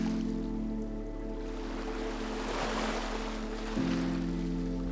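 Ocean waves wash in a soft, steady surf that swells in the middle, layered under a sustained calm tonal drone.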